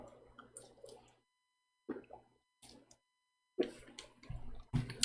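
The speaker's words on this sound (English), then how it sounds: "Let me drink." A person sips water from a drink in short bursts of swallowing and small liquid squishes, separated by brief silences, close and quiet with no talk over it.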